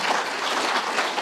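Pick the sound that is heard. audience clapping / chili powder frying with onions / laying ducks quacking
audience clapping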